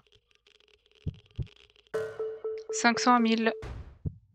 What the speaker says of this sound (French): ça fait boum boum, mes battements de cœur